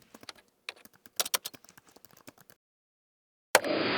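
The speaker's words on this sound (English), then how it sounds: "And with that, I started typing." Quick, irregular clicks of fingers typing on a computer keyboard for a couple of seconds, then a pause before a burst of hiss.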